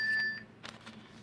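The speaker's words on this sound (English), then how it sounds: "that's my phone that's going crazy" A phone gives off a few short electronic alert tones, a sustained beep followed by softer chirps, close and fairly clear with nobody speaking.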